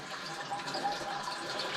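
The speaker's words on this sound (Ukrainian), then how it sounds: "бачок потік" Water trickling and leaking from a toilet cistern in a house under construction, a steady close hiss of running water with no voices, lasting under two seconds.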